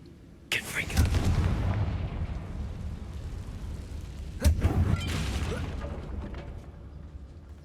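Confringo fire-blast spell exploding in Hogwarts Legacy, two booming blasts a few seconds apart, each with a rumbling tail over game ambience.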